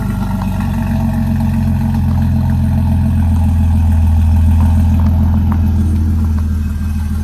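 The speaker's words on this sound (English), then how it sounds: "you can definitely hear that tinny noise because the exhaust is pretty much brand new" Mercedes C32 AMG with a brand-new custom 3-inch exhaust and cat delete runs close by, a loud, deep, steady engine drone with a slight metallic tinny edge and no voices.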